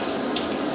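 Shower water running in a steady, even hiss with no breaks, moderately quiet and alone, no talking.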